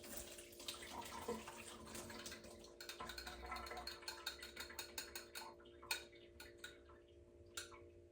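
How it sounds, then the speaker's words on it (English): Soaked raisins are strained and their water drains away in a home kitchen. A faint, steady trickle runs under a rapid series of light ticking and clicking taps that thin out toward the end. "I'm going to go ahead and strain off my raisins."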